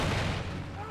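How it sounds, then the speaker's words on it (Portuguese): Civil War artillery cannon fire at Gettysburg, a dense, booming burst with heavy low-end rumble that fades across the second. "cannon that are firing, so we can get an idea of what this sound is like"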